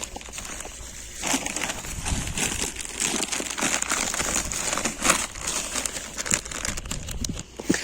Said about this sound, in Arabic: يلا يا احمد هات كيس اللب اللي وراك كده